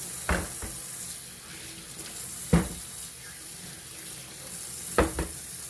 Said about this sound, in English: I'm using lime to wash my oxtail